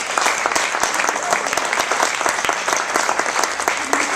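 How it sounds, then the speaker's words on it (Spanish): Sustained, loud clapping from a church congregation continues steadily with many individual claps blending into a dense wash, and no speech is heard. "Un aplauso a Dios, porque la verdad."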